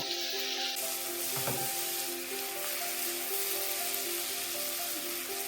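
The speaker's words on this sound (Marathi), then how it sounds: "आता हे बटर आणि कांद्यामध्ये त्याला मिक्स करून छान भाजून घेते" Boiled peas and green beans sautéing in butter with onion, a steady close sizzle running throughout with a brief stir clatter early on and a faint tonal hum beneath, no one speaking.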